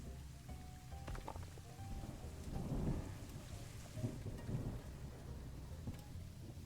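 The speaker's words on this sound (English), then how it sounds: "The rain is not helping." Rain and rolling thunder from the video game Planet Zoo, a steady downpour hiss with low rumbles swelling and fading across the stretch, no voices.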